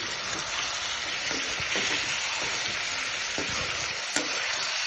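Chicken curry with tomatoes sizzling and frying in a pan while being stirred, a continuous close crackle broken by soft scraping stirs at irregular intervals.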